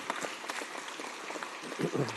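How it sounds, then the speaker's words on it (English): A sparse round of applause from a city council meeting audience, light overlapping claps at moderate distance, fairly quiet, with a few louder claps close by near the end. "Now, big round of applause, seriously"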